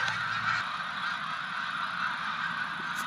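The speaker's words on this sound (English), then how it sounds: "It looks a lot like birds from where I'm at." A distant flock of wild birds, probably geese, honks and calls continuously in the open somewhere between Cranberry, New Jersey and Princeton, a steady wash of overlapping cries with no talk.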